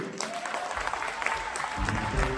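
A concert crowd applauds after a performance by a Ukrainian folk band in Ivano-Frankivsk, with close, continuous clapping over a low rumble that swells toward the end.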